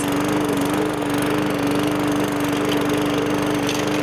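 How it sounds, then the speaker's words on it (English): A loud, steady engine drone of a GOAT A3000 LiDAR Pro robotic lawn mower running continuously up close, with a constant low hum and no talking. "This is a super loud lawnmower."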